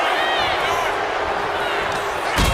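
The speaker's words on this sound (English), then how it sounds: "A deafening cheer from the WWE Universe is reverberating around us." Loud, dense arena crowd roar in the WWE 2K25 wrestling game at SummerSlam, a sustained cheer filling the whole moment with a thump near the end.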